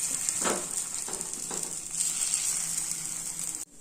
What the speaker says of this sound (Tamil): இப்போ பணியாரத்தை நம்ம திருப்பிக்கலாம்